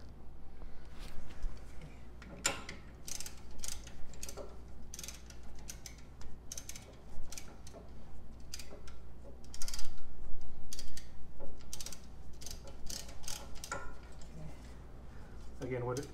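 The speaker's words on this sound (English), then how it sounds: "Now I'm going to try to compress the pistons with a tool." A piston compression tool is cranked to push brake caliper pistons back, giving a string of irregular ratcheting clicks and metallic creaks at close range, with a person talking over parts of it.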